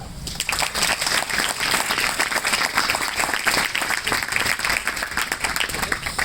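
Crowd at an NSS camp breaks into applause, a loud, close burst of many hands clapping rapidly and evenly throughout, with faint cheering mixed in.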